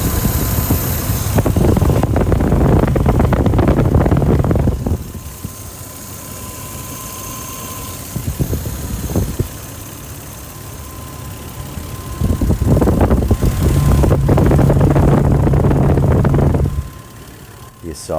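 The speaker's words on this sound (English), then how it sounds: "this is a 3-liter inline 6 engine, 24 valves with an intercooler" An '89 Toyota Supra Turbo's 3-liter 7M-GTE inline-six with 24 valves and an intercooler idles steadily with a low hum and fan-like whir, loud and close, swelling twice as a closer mic picks it up, with talking in between.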